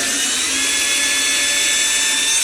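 A cordless drill spins in reverse as the bit is pulled out, a loud, steady high whine that holds evenly throughout with no pauses or voices.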